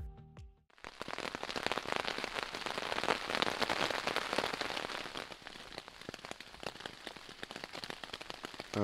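Steady rain patters densely on a tent close by, a continuous crackling hiss with scattered louder drops throughout.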